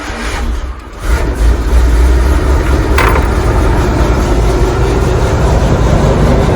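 Engine of a vintage Winnebago motorhome revving hard with the gas pedal floored while cold, a loud, sustained roar that swells after a brief dip and holds steady, with no talking.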